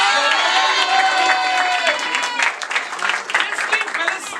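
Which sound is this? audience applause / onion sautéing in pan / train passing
audience applause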